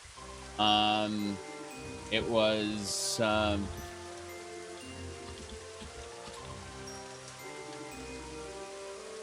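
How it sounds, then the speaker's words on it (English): Steady rain in the game Elder Scrolls 2, a soft constant patter under a voice, briefly interrupted by a few louder game sound effects near the start. "we need to put this cloak on. Cover ourselves from the rain."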